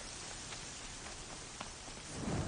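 Steady rain in the video game Horizon Zero Dawn, a dense, even hiss of falling drops with a few louder spatters, continuous and close, with no voices.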